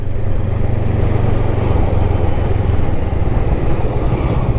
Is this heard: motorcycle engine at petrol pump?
yes